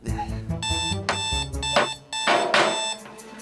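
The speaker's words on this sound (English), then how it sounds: "You hit the snooze alarm." A snooze alarm clock rings with a loud, tonal electronic melody of repeated beeping notes in several bursts, pausing briefly between phrases.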